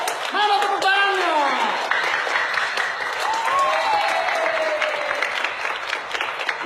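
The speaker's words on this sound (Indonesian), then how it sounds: "Mana tepuk tangannya?" An audience breaks into loud, sustained applause and cheering, crowd voices mixing in with whoops and rising calls as the clapping continues throughout.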